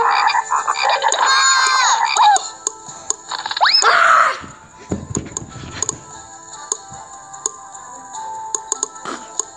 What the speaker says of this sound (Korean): 근데 개구리가 너무 시끄러워요.